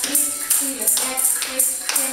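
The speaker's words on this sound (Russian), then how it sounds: "И хлопаем." A group of people clap their hands together in a steady beat, sharp bright claps repeating evenly about every third of a second, close and loud with no talking.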